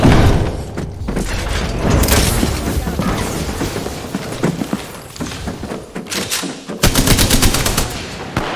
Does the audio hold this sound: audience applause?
no